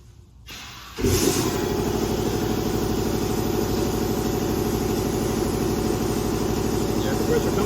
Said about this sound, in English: The air compressor comes on.